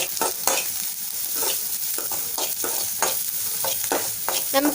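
Onions sauté in a pan with turmeric and salt, a continuous bright sizzle broken by regular scraping strokes of a spatula, close and loud throughout.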